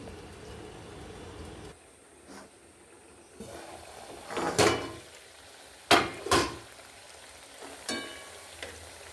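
Taro in mustard-poppy curry simmers in a covered pan at a village kitchen, giving a soft steady hiss with a few sharp knocks and clatters of the lid or a utensil partway through.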